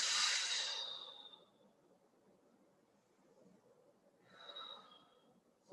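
Breathing held through a yoga split stretch, with two soft airy exhales, one at the start and a fainter one near the end, over a quiet room.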